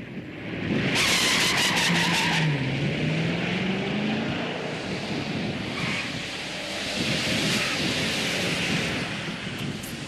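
A muscle car launches hard and breaks its tires loose at around 3,000 RPM during a drag run. The loud engine roar and tire noise run steadily for the whole stretch, with no talk over them.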